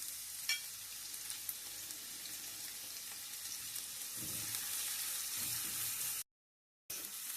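Onion hits hot oil after garlic has browned, sending up a steady bright sizzle that grows a little louder toward the end, with an occasional stir and a brief cutout near the close.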